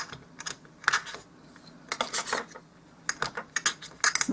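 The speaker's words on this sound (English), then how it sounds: "We're just going to put this into a mat and just keep chopping." A blade chops polymer clay on a cutting mat, giving sharp, close clicking taps in uneven bursts separated by brief pauses, with no speech.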